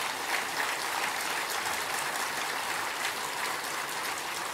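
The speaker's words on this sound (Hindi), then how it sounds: "एक बार सभी एक दूसरे के उत्साहवर्धन में तालियों की गड़गड़ाहट करें।" A spiritual gathering's audience breaks into sustained applause, a dense, steady wash of clapping that holds evenly for several seconds with no pauses.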